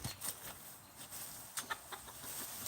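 Hens in a coop cluck softly at a distance, scattered short calls breaking through a quiet background with no talk over them.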